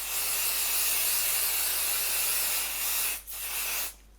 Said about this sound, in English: So now I'm going to spray a light layer